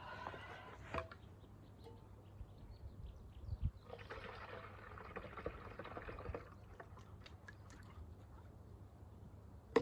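Liquid solution for spraying tomatoes poured into a container, a faint steady trickle and splash running for several seconds with a few small knocks and clinks nearby, no talk.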